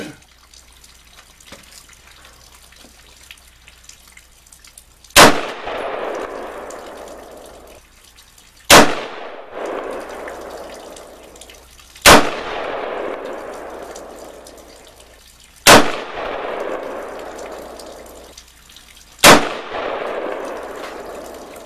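Rifle shots at an outdoor shooting range, five loud sharp reports spaced a few seconds apart, each followed by a decaying echo, close up with no talk.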